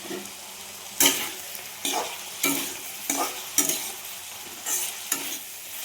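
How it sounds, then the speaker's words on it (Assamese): Potatoes frying in a pan with turmeric and salt, stirred over and over: a steady soft sizzle broken by sharp scraping bursts roughly every second, with no talking. "আলুখিনি মচমচীয়াকৈ ভাজিব লাগিব"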